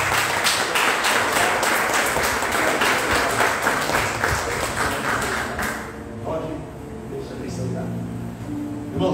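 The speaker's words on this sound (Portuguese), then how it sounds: "Irmãos, vamos aplaudir a Deus." A church congregation at a farewell service for departing pastors applauds with rhythmic clapping for several seconds, which then fades into quieter room sound with some faint voices.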